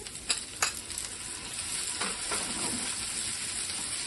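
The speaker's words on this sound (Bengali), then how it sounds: "তো আমি যে টমেটো কুচিটা দিয়ে দিচ্ছি" Chopped tomato tipped into onions frying in a pan for stuffed bitter gourd, a couple of sharp clatters followed by a rising, steady wet sizzle with stirring scrapes.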